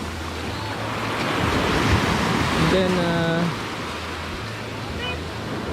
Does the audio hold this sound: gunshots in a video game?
no